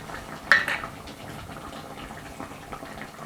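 Stock poured into a pot of chickpea and butternut squash curry: a soft, steady liquid pour with a small splash at the start, close and moderately quiet.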